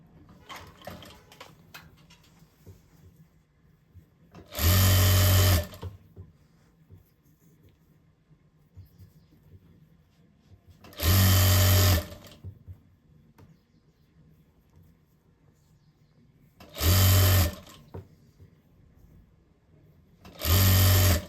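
A sewing machine stitches lastex pant fabric in four loud, close bursts of steady whirring, with quiet handling between runs.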